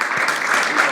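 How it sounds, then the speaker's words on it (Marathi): Seminar audience clapping together during a motivational talk, a dense continuous patter of many hands filling the room without pause, no voices over it. "त्याबद्दल सगळ्यांसाठी टाळ्या होत्या"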